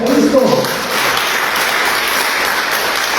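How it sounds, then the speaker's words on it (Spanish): A church congregation breaking into strong applause during a sermon, with a voice trailing off at the start before steady, loud clapping takes over and continues to the end. "Denle un aplauso fuerte a Cristo"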